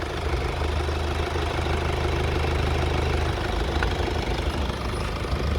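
A Mercedes-Benz E-Class diesel sedan engine idles steadily with a low, even rumble and faint knocking, continuous and close, with no voices.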